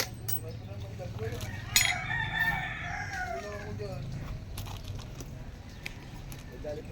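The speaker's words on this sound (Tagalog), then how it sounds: "lagot ka ngayong manok ka, kakatayin ka ngayon" A rooster crows and chickens cluck at a rural home where construction work is under way, the calls rising loud around the middle over steady background noise and faint voices.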